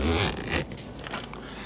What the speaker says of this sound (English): our YKK Aquaseal zipper, it's got kind of a T-handle here. So I'm going to unzip it.